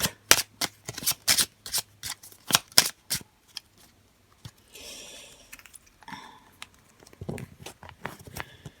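A deck of Celtic Lenormand cards is shuffled in a rapid series of crisp, riffling slaps close up, then after a short pause comes softer sliding and tapping as the deck is cut.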